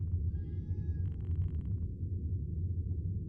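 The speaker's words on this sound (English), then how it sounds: "We leave the granny and hear meowing and see a cat in an alleyway." A single drawn-out cat meow from a Japanese horror video game rises over a steady low rumble, followed by a short buzzy chirp, then only the background drone continues.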